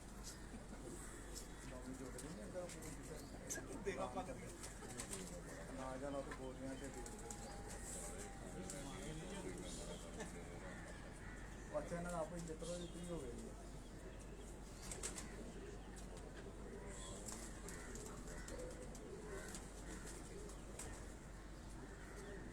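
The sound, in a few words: Tounsi pigeons cooing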